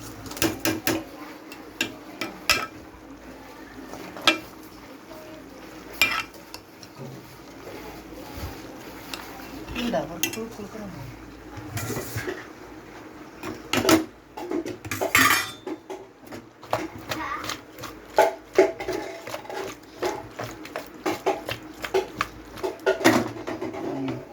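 Crushed onion is stirred into curry in a pot, with repeated clinks and scrapes of a metal spoon against the pot that come in irregular bursts, close and fairly clear, growing busier in the second half.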